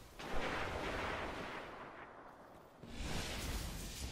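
The Golden Gun super fires in Destiny, giving a heavy booming blast with a rushing, whooshing tail that fades before a second surge of noise swells up, loud and close with no talk over it.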